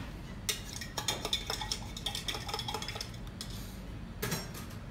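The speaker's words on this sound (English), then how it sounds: "And I stir it." A spoon stirs smoked smetana, a Russian sour cream, into a cocktail in a glass, making a close run of quick, light metallic clinks and taps.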